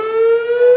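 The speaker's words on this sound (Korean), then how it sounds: "적의 공습을 알리는 사이렌이 평온함을 깨뜨립니다." A civil defense air raid siren sounds during a nationwide Korean air raid drill, a loud steady wailing tone holding a single pitch, heard alone without voices.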